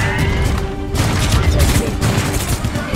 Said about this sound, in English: Grenade just hit me in the face.